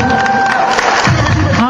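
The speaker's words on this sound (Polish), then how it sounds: "Jeszcze raz prosimy o brawa dla zawodników." A crowd at a strongman competition applauds and cheers, clapping blending into a steady noisy wash with some voices mixed in.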